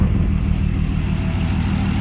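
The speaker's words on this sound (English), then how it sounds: "She's been idling for about 20 minutes." A BMW E36 drift car engine idles steadily, a loud, continuous low rumble with no revving or change in pitch.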